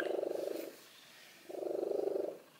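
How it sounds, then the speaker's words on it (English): A cat purrs loudly close up in two long rumbling stretches, each a rapid vibrating buzz separated by a quieter breath. "And he's purring loudly."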